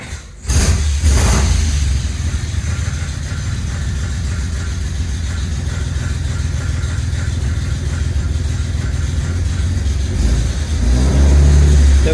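A 1948 Dodge Flathead 6 engine with shotgun dual exhaust and baffles cranks over, catches and settles into a steady, loud, rumbling idle, then swells into a deeper rev near the end.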